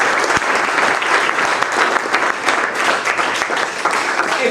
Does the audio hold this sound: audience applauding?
yes